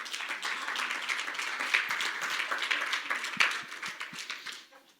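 A church congregation applauding during a bilingual Spanish-English sermon, a steady, moderately quiet patter of many hands clapping that tapers off toward the end.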